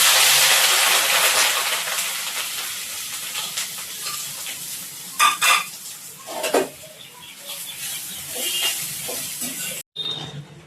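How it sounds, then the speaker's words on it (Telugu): Bitter gourd pieces fry in oil with a steady broadband sizzle, broken by a few louder crackles and spatters near the middle and a brief cutout near the end; no voices. "ఆయిల్లో ఈ ముక్కలు అయితే ఫ్రై చేసుకోవాలి"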